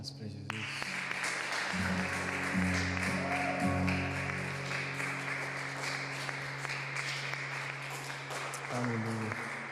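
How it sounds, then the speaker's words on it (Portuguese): A church congregation claps for Jesus during an online worship celebration, a moderate, scattered applause running under sustained keyboard chords and a voice speaking over the top. "Dá uma salva de palmas para Jesus."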